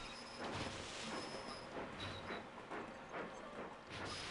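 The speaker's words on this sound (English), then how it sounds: "this train coming in with all of this gold is very helpful" A faint train in the game Sid Meier's Railroads rumbles and clatters into a station, with a soft rhythmic clacking of wheels and a low mechanical hum throughout.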